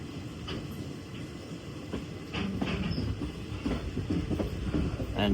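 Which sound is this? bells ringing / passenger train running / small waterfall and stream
passenger train running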